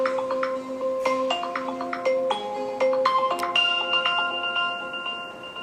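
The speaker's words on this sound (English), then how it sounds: "I like the ringtones" A new iOS 17 iPhone ringtone plays a bright, bell-like melody of clear plucked tones in quick succession, layered and ringing on, fairly loud with no voices.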